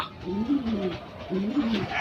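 Racing pigeons coo at the loft in two low, rolling bursts, close and moderately loud over steady background noise.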